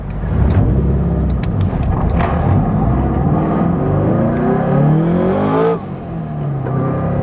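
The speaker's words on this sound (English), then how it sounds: "The blow-off valve was just a lot louder with the radio off" A turbocharged Subaru BRZ pulls hard from inside the cabin, its engine droning steadily and climbing in pitch before a sharp drop-off near the end, with scattered clicks and no voices.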